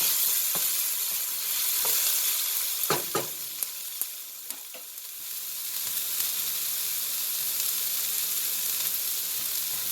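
Mongolian pork sizzles loudly on high heat in a pan, a constant close frying hiss broken by a few sharp scraping clicks of stirring, with no talking.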